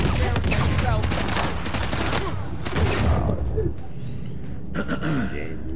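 Gunfire crackles through an Uncharted multiplayer match in fast, loud volleys for the first few seconds, then thins to scattered shots, with a voice talking over the action throughout.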